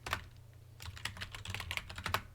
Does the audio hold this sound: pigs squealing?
no